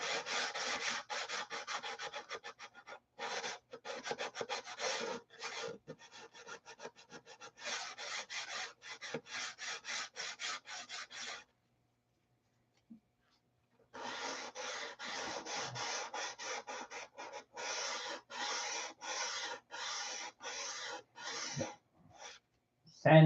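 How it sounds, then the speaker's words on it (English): Sandpaper rubbing across a floor in repeated rhythmic back-and-forth strokes, close and steady, pausing for a few seconds midway before resuming, with no talk. "Sand the floor."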